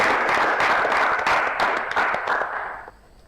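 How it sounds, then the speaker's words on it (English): An audience applauds the winning college team at an engineering quiz semi-final: dense, close clapping that holds steady, then thins and fades out over the final half second. "A round of applause for them."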